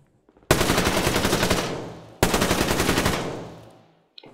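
Two long bursts of automatic rifle fire in the shooter game Survarium, loud and close, each rapid string of shots rattling steadily for over a second with a short gap between.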